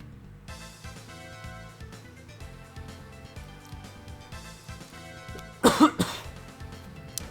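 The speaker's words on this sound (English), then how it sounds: "Just taking a sip of my water there and clearing my throat a bit" Two short, loud coughs with a throat clear from a gamer streaming Fire Emblem Heroes, bursting out over steady background game music near the end.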